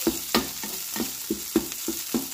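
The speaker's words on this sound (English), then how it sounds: "Break this up really nice with the olive oil." Beyond Meat sausage crumbles sizzle in olive oil in a pan as a utensil breaks them up, with steady frying hiss and regular scraping strokes roughly every third of a second, close and clear with no talking.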